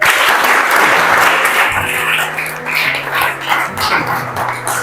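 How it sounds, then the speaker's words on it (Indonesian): An Indonesian Islamic jurisprudence (fiqh) classroom audience gives lively, dense applause that stays loud throughout, with a dog barking briefly in the background. "beri tepuk tangan yang meriah"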